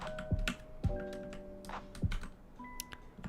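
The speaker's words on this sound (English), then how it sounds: "this keyboard is very hard to type with my nails right now" Typing on a computer keyboard with long nails, uneven bursts of clicky taps and a few heavier key strikes, close and distinct, with no voices.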